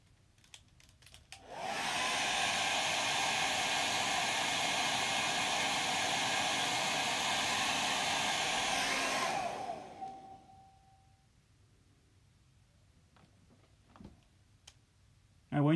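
A hair dryer blows steadily at close range for several seconds, then cuts off, leaving near silence with a few faint clicks.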